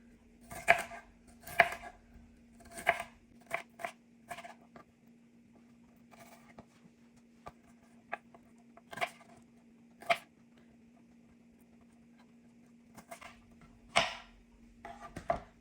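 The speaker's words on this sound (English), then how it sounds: "let me cut up all the ingredients" Vegetables for a cucumber salad being cut on a board, a series of crisp knife chops in short bursts separated by pauses, close and clear over a faint steady hum.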